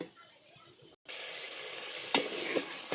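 Ground spice paste (bata masala) sizzles and fries in a pan for a goat head curry, with a brief silent gap, then steady loud hissing broken by a few sharp scrapes of stirring.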